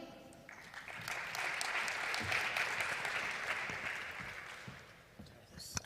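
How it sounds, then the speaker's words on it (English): An audience at a startup pitch competition claps, the applause rising quickly to a full, steady round of moderate loudness before tapering off near the end. "an applause for him"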